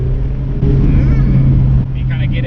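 A Mazda MX-5 ND's engine pulls hard and loud from inside the car, its note rising with revs while a voice talks over it.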